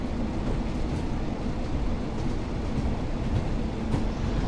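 A BR Class 142 Pacer railbus in Train Sim World 4, axles bolted directly to the chassis with no bogies, rumbling steadily at speed with a continuous close rolling roar and faint wheel clatter, no voices.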